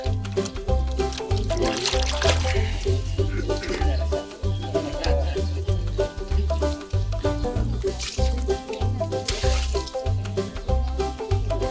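Water is poured out of a container during small-scale, handmade mycorrhiza production, a steady splashing and trickling that runs throughout over a repeating low thumping background beat.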